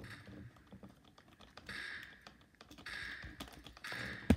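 A broken computer keyboard is typed on in quick, uneven bursts of soft clicks and taps, close up and quiet, with no talking.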